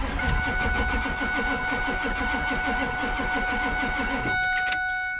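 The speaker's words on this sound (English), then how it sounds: "Attempt number 69 of cold starting the old 7-3" Ford 7.3 diesel engine cranks over and over in a rapid, even, labouring rhythm on a cold start at -69 degrees, loud and close, then stops after about four seconds without catching.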